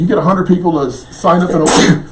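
A person sneezes once, sharply and close by, right after a short stretch of conversational speech.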